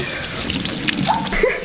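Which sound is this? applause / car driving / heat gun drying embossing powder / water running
water running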